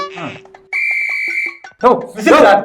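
A shrill, sustained whistle is blown amid the crowd at a TVK political rally in Salem, a bright piercing tone lasting under a second, bracketed by short bursts of excited voices and chatter.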